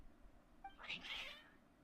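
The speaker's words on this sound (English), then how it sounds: "Your cats seem pretty worked up." Cats meow in the Genshin Impact video game, two or three overlapping high, strained cries rising and falling over about a second above a faint low rumble.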